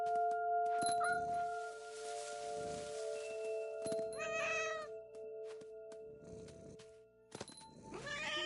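A cat meows in the video game What Remains of Edith Finch, two or three drawn-out, fairly close meows separated by quieter ambient stretches and soft game sounds.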